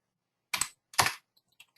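Two short bursts of typing on a computer keyboard in a quiet office, each a quick cluster of clicky keystrokes, followed by a few faint isolated taps.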